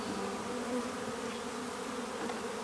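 A steady, dense buzz of many honeybees crowding around an open hive, a constant droning hum with no pauses, close and moderately loud, with no talk.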